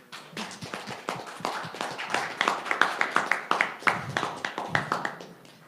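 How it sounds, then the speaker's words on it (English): Audience clapping fills a student election Q&A hall, a steady round of applause with some sharp, distinct claps standing out, fairly close and loud, sustained for several seconds before tapering off. "Let's give a round of applause."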